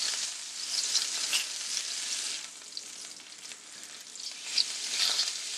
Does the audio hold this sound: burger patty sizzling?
yes